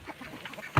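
A farm duck on a rural South Dakota farm lets out a single loud, close quack near the end, after quieter rustling and faint calls from other fowl in the background.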